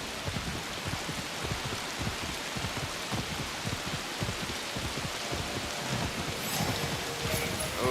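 Rain pours down continuously in the video game Assassin's Creed Shadows, a dense, even hiss of drops on surfaces with a fine, rapid patter that holds steady throughout.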